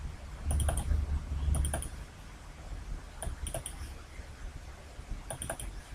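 Computer mouse double-clicking at a desk while working in a Microsoft Access 2010 datasheet, several crisp paired clicks spaced a second or two apart over a low background hum, close and quiet, with no talking.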